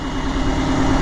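A truck engine idling loud and close, a steady, dense rumble with a constant low hum that holds without change and carries no voices.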